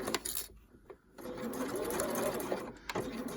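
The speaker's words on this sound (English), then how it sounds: "I'm going to do a little reverse stitch just because I want to make sure that everything's in place, and I'm going to baste this on" A sewing machine bastes a zip with a quick reverse stitch, whirring in short close bursts broken by brief pauses and small clicks, with no talk.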